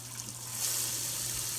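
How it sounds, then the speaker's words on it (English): Hot water runs steadily from a kitchen tap into a sink, a faint, even hiss and trickle with a low hum underneath and no speech. "I'm gonna put it over here in the sink. Fill it up with hot water."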